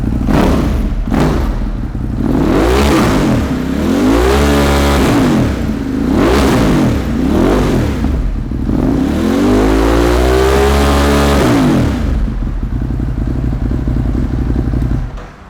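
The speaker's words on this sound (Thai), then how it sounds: "ก่อนเดี๋ยวเรามฟังเสียงเครื่องยนต์กันครับ" Used car's engine revved repeatedly in short bursts, rising and falling sweeps with heavy low rumble, loud and close, then easing back toward a steady idle with no one talking.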